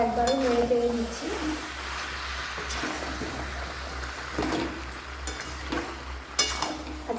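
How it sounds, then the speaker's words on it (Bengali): Homestyle meat curry being stirred in a pot with the lid just taken off, a soft ongoing sizzle with scraping spoon strokes and occasional clinks of metal against the pot, a brief voice at the start. "তারপর দেখুন এবার আমি ঢাকনাটা খুলে আবার একবারও নেড়ে চেড়ে দিচ্ছি।"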